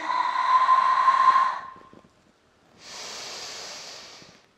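Two long breathy exhalations during a Pilates leg and waist toning exercise, the first louder and whistling through the nose, a pause, then a softer, steady second breath out, close to the microphone.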